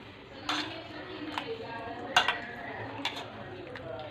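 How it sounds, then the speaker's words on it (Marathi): Banana and milk are mashed together with a masher in a bowl, giving soft squelches and occasional metallic clinks and taps against the bowl, close up with a low steady background. "आता हे मॅशरने आपण केळी आणि दूध मिक्स करणार आहे"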